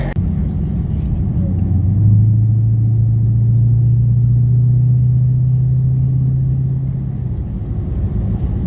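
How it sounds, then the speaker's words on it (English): A 2017 Dodge Charger Hellcat's engine rumbles steadily and loud while driving, holding a deep low drone that swells slightly before easing off. "Do you hear that? That's why you buy a Hellcat."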